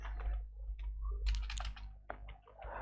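Close keys tapping on a computer keyboard come in irregular bursts of quick clicks, with a brief pause midway and no talking.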